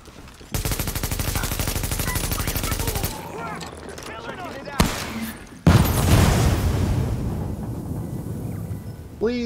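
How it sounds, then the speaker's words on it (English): Rapid automatic gunfire rattles loud and steady in a firefight in The Division, then breaks into scattered shots and a heavy boom, with voices shouting over the shooting. "Just fucking shoot him!"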